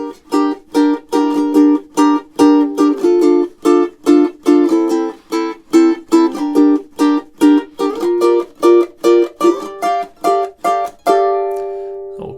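A funk rock duet on high G and baritone ukuleles, with steady strummed chords in a tight, punchy rhythm, crisp upstrokes, and a final sustained chord ringing out alone.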